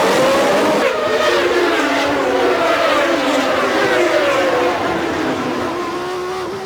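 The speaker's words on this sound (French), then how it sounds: "toutes les voitures passent Sainte-Dévote" Formula 1 cars racing through Sainte-Dévote corner at the Monaco Grand Prix, high-pitched engines whining loudly as they pass close by one after another, pitch sliding as they brake and accelerate out of the turn, fading slightly at the end.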